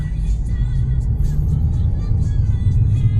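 A 2006 Mazda3 2.0R Sport five-door hatchback with a four-speed automatic pulls away on a test drive, giving a steady, close low rumble of engine and road noise that holds evenly throughout with no voices.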